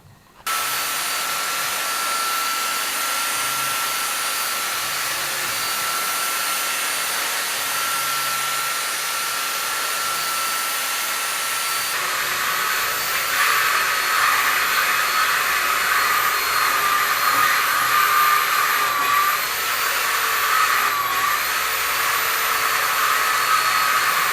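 A power tool sands wooden puzzle-piece panels for a camper build, giving a loud, continuous high whine that shifts to a harsher, busier tone partway through, with no talking.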